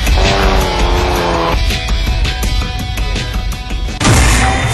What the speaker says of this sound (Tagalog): Nagpakita sa ilang kahanas ang 43 ka mga 4x4 off-road racers